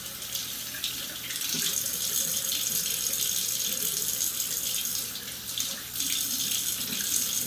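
Dates rinsed under a running kitchen tap: a steady, close hiss of water splashing into a sink, continuous and fairly loud with slight swells, no voices.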